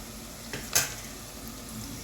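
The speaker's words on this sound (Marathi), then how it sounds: "बघा हा कांदा चांगला मस्तपैकी भाजायचा तेलामध्ये." Onions frying in oil for chicken biryani give a faint steady sizzle, interrupted by a couple of quick clinks of a utensil on the pan, close and quiet with no talk.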